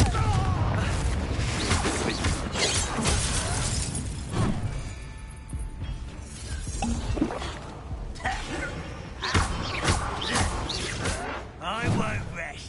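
Confringo blasting spells explode in Hogwarts Legacy on PS5: repeated booming, shattering blasts in quick succession, mixed with in-game voices.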